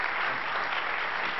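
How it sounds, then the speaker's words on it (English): Audience at an Ebola town hall meeting applauding, a dense steady wash of many hands clapping at once, loud and continuous for the whole stretch. "So can we give him a round of applause, please?"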